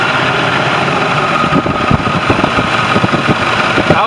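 Engine of a 2013 International shuttle bus idling, a steady low rumbling chug with a regular pulsing beat, heard close and continuous throughout.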